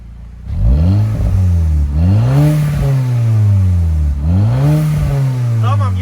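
A Mk5 VW Golf GTI with 332,000 km revs hard three times in a row, heard from behind at the exhaust, each burst climbing in pitch then dropping back, loud and close.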